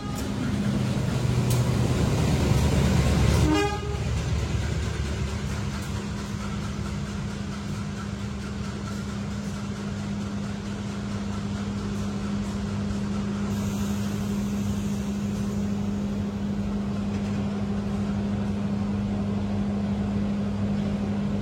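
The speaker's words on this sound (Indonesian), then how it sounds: "ini dia untuk kereta api Baturaden Express di kereta eksekutif" Steady rumble and rolling drone inside the executive car of the Baturraden Express passenger train running at speed, with a brief rattling burst early on and constant low hum throughout.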